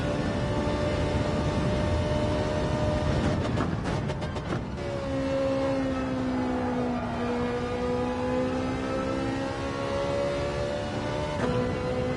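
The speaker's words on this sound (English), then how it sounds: "This car does sound really cool." A race car engine in Gran Turismo daily online racing, droning steadily at high revs, with a brief burst of rattling gear-change noise partway through before the tone climbs again, heard alone and close.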